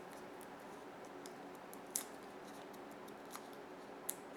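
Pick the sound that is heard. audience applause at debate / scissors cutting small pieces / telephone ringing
scissors cutting small pieces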